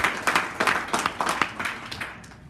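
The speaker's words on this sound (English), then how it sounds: "give a round of applause for yourself" A team-building session audience applauds with scattered, fairly brisk handclaps that carry at a steady level, then thin out toward the end.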